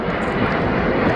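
Steady broadband roar of an Air Canada 787 Dreamliner jet on its landing approach, loud and close, with no voices.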